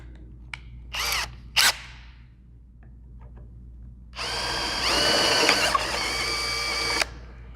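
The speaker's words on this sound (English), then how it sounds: "And then I went a couple drill sizes larger again." A power drill whirs in two short bursts, then runs steadily for a few seconds as it enlarges a hole in an Aston Martin DB9 interior panel, loud and close.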